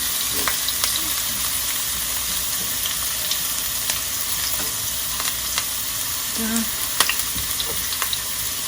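Onions and mixed vegetables for teriyaki tofu fry in a pan with a dense, constant close sizzle, broken now and then by faint crackles and light stirring.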